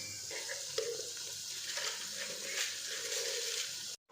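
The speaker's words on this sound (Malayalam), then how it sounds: "ഉള്ളിയും പച്ചമുളകും വേപ്പിലും എല്ലാ സാധനവും കൂടെ മിക്സ് ചെയ്ത് അങ്ങോട്ട് നല്ലോണം വഴണ്ട് വരുന്നവരെ വെയിറ്റ് ചെയ്യണം." Onions, green chilies and curry leaves sauté in a pan for a Kuttanadan duck curry, giving a steady, fairly close hiss and sizzle with no talk, ending in a sudden cut.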